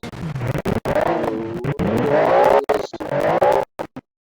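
A custom-designed car skids in a racing video game, tires squealing and engine revving loudly in choppy bursts broken by brief silent gaps.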